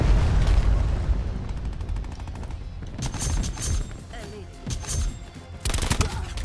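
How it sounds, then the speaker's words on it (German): Hellstorm special weapon strike in Call of Duty Black Ops 4 multiplayer, loud booming blasts and crackling gunfire-like bursts in clusters with short gaps, one heavy barrage near the end, without talk. "Hellstorm bei meinem Bereich einsetzen"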